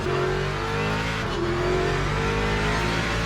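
A Ford Mustang V8 GT3 race car in a racing sim revs loudly and steadily nearby, its engine note sliding up and down as the throttle changes, with a brief tire squeal and no talking.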